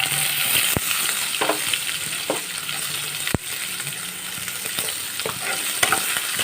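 Garlic, cumin, green chili and chopped onion fry steadily in a pan with a continuous close sizzle, broken by a few sharp utensil clinks and scrapes as the mix is stirred.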